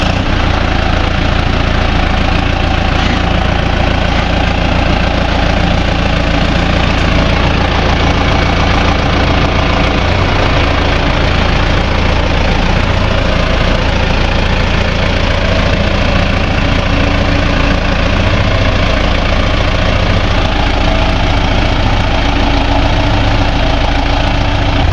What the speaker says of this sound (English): It is a hot, broken down John Deere motor